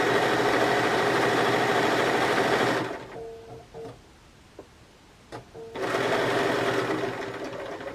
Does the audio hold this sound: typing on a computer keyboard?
no